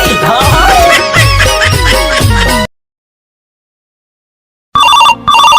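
A loud electronic phone ringtone plays a tonal melody for a few seconds, stops into silence, then starts up again briefly.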